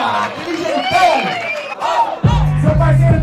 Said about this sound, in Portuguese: Palmas pra batalha